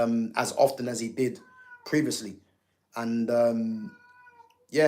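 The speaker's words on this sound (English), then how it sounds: "That meowing noise, man, needs to stop." A pet cat meows repeatedly in drawn-out, tonal cries close by, overlapping and alternating with someone talking indoors.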